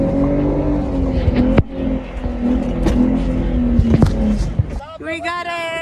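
An off-road vehicle in Toiyabe National Forest hums with a steady engine drone as it creeps forward, with several sharp knocks along the way and a rising engine whine at the end, under people talking.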